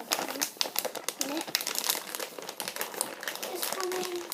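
Plastic bag holding a Hero Factory toy crinkling and rustling up close in quick, irregular bursts, with faint talk in the background.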